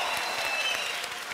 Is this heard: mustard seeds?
no